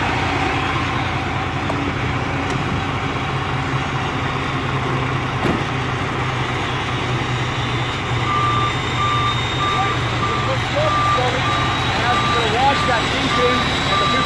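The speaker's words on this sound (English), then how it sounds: "Now I'm gonna back it up until the fifth wheel connects with the kingpin, okay?" A semi truck backs up to couple its fifth wheel to a trailer kingpin, with a steady diesel engine rumble and a continuous reversing beeper close by throughout.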